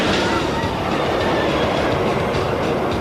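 A roller coaster train hauled slowly up the first lift hill by a chain or cable: a steady, continuous rumbling clatter with rhythmic mechanical clicking, loud and close, running evenly the whole time.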